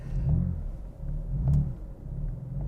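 A 2018 BMW M4 engine idles low and steady, with a couple of soft clunks and slight surges as the dual-clutch gearbox engages reverse, heard from inside the car.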